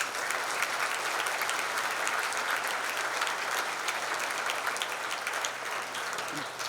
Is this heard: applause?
yes